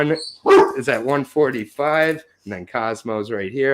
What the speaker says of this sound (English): I'm just going to apologize for the barking